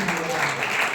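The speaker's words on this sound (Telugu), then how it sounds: "చప్పట్లు పట్టండి" A church congregation claps in brief, dense applause, close and loud, with a voice speaking over it.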